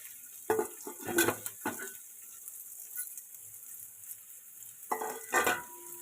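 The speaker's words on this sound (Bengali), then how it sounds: "চালটা দিয়ে আমি কড়াইয়ে ভালো করে নাচতে থাকবো" Marinated rice is stirred and fried in a wok after whole garam masala and bay leaves. A utensil scrapes in bursts of scraping and clatter over a quiet sizzle, then pauses and resumes.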